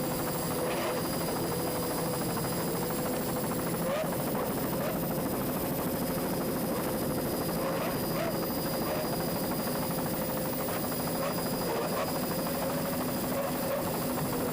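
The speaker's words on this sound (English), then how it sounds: "Let's listen to those two 200-horsepower Johnson outboards." Two 200-horsepower Johnson outboards on a racing powerboat drone steadily through a powerboat race, a constant distant engine hum with fluctuating whine that never lets up.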